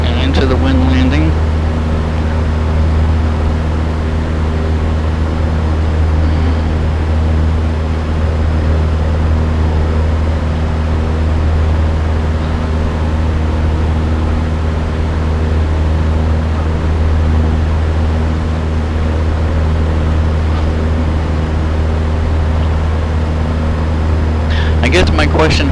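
A light aircraft engine drones steadily in flight over Ohio grass-strip country, a loud, unbroken, even hum with a low propeller throb that stays constant throughout.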